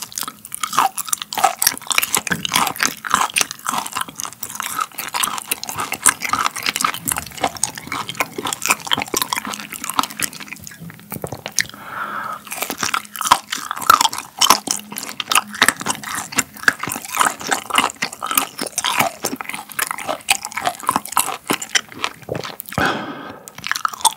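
Imported fermented skate (hongeo) being chewed up close, a loud, continuous wet crunching and squishing with sticky, moist bites and no talk.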